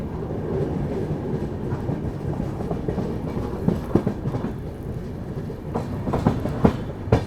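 Passenger train cars rolling steadily along the rails, a continuous dense rumble with rhythmic clickety-clack of wheels over joints growing more pronounced toward the end, heard from inside a coach.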